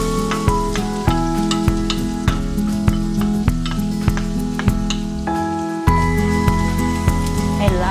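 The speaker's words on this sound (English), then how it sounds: "I love to hear that sizzle." Garlic sizzles in hot oil in a pan over medium heat for a chicken curry, a steady crackling fry running under louder rhythmic background music.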